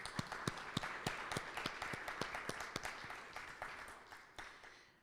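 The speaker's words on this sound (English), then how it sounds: "join me in an applause for this wonderful presentation" Applause from a workshop audience after a presentation, a sparse group clapping with distinct sharp individual claps at a fairly quick, uneven rhythm, tapering off toward the end.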